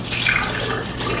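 Homemade pasta sauce is scooped with a measuring cup and poured into jars, making a brief, close, wet pouring slosh lasting about a second.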